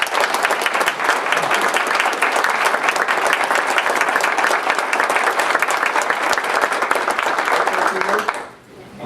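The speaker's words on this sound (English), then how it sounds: "I'd like you to join me in a round of applause." A large audience applauds loudly and steadily for several seconds, then the clapping quickly dies away.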